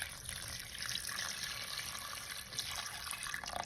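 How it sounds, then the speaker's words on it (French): Hot water pours steadily over chickpeas in a cooking pot, a continuous close hiss and gurgle of liquid with no voices. "On recouvre avec de l'eau chaude"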